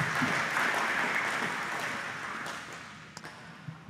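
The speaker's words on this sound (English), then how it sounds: "Big round of applause." Audience applause at the close of a presentation at an agricultural spray forum, a steady broad wash of clapping that gradually fades over a few seconds, with a few scattered final claps near the end.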